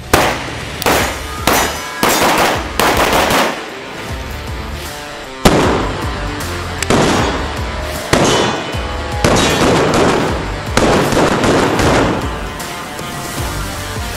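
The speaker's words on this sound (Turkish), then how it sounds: "Güzel bir tabanca. Atıyorum." Pistol being fired repeatedly at a shooting session, a run of loud, sharp bangs at irregular intervals, each ringing out with a long echoing decay and no talk between shots.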